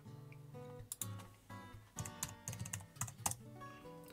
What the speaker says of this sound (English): my sausage fingers are terrible on the keyboard, they really are